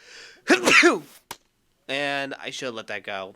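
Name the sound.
sneeze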